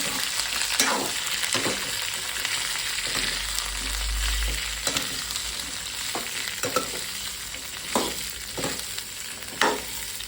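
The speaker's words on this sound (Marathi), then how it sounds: "तर आता ह्या भाज्या फ्राय करून घेऊया आपण पटकन." Peas, cauliflower and carrots fry over high heat in a pan, a steady close sizzle broken by repeated scraping stirs of a spoon, with no talk.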